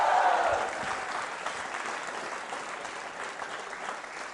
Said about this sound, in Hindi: जोरदार तालियां वंदिता जी के लिए, जोरदार तालियां।